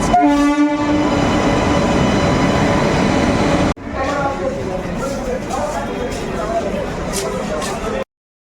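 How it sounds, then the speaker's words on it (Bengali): An Amrit Bharat Express train at Malda Town station, first sounding a loud sustained horn up close, then giving way to a steady rumble of the train that cuts off abruptly near the end. "অমৃত ভারত এক্সপ্রেস এই মুহূর্তে মালদা টাউন"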